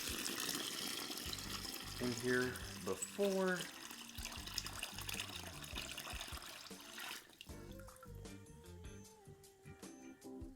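Water runs and splashes into a basin for a locs rinse bath, a steady close pour that thins out partway through, with someone talking over it in places.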